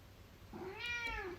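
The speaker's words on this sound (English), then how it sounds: "Can you hear my cat there in the background?" A cat meows once in the background, a single drawn-out rising and falling call, faint and somewhat distant in an otherwise quiet room.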